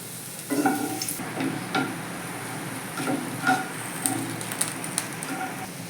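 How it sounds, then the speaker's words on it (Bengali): Lentil dumplings fry in mustard oil in a wok with a moderate crackling sizzle, and stirring knocks and light clinks are scattered through the few seconds. "কড়াইতে দু চামচ সর্ষের তেল দিয়ে দিয়েছি প্রথমে আমি একটু বড়িগুলোকে ভেজে নেব"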